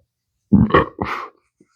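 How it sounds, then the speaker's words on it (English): A single close, loud burp after eating ghost-pepper chocolate, a low rumbling belch in two quick parts separated by a brief gap, with silence before and after. "Excuse me, pepper burp."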